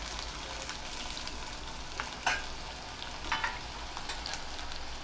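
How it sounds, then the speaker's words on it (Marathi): Steamed bottle gourd vadis sizzle steadily as they fry in a sesame and asafoetida tempering, with a couple of brief stirring scrapes over the constant crackle. "आणि आता दुधीच्या वड्या ज्या आपण वाफवल्या होत्या त्या आपण घालतोय"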